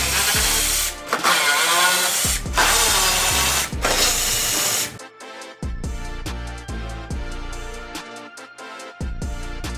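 T30 Torx screws come out of a BMW E92 bumper under a power driver, with loud whirring bursts that stop and restart, then shorter clicking and ratcheting spins up close, and no talking.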